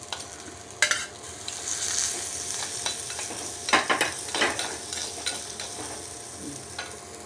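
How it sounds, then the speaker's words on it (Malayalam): Small onions (shallots) sautéing in oil in a pan for a prawn masala, with a soft steady sizzle and scattered stirring scrapes and clinks throughout, no voices. "അതിൽ എണ്ണയിൽ തന്നെ ഈ ചെറിയ ഉള്ളി നല്ലതുപോലെ വഴറ്റിയെടുക്കും"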